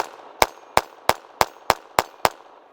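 Seven sharp .22LR shots from a Glock 44 pistol firing CCI standard velocity ammunition at a silhouette target, evenly spaced at a steady rhythm, close and loud with short decays.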